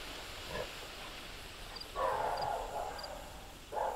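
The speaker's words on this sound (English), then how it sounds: "Do you hear the dog?" A dog in Final Fantasy XVI barks a few times from somewhere distant, faint short yaps at irregular gaps over a quiet, hushed ambient background.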